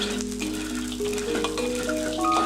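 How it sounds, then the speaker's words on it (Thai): Spices dry-roasting in a pan give a steady, close crackle and sizzle with faint tonal hum underneath and no talking. "เราก็จะนำส่วนผสม นะครับ ก็คือเครื่องเทศเนี่ยมาคั่วก่อนนะครับ ให้ มีกลิ่นหอมนะครับ"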